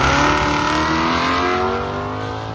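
A drag race car with a 350 small block engine accelerates hard down an airport strip at a charity drag race, a loud rising engine roar that fades slightly as it pulls away.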